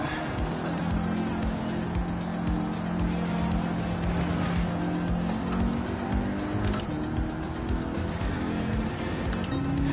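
A race car in the video game Gran Turismo 7, played in PSVR2 with a Logitech G29 wheel, drones loudly and steadily through a lap while its tires squeal almost continuously.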